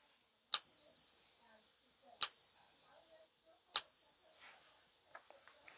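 A silver coin flicked three times, each flick producing a bright, high, pure ring that sustains and wavers for about a second before fading, separated by short silences; close and clean.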